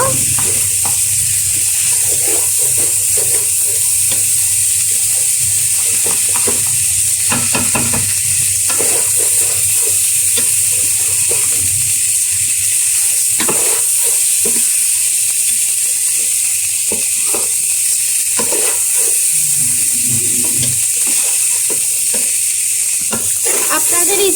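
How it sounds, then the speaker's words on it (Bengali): Rice frying in oil in a pan for chicken biryani gives a loud, constant hissing sizzle, punctuated by repeated scraping and clinking stirs of a spoon against the pan, with no speech. "এখন আমরা চালগুলোকে ভেজে নেবো"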